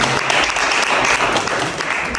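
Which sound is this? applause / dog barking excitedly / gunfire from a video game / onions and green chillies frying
applause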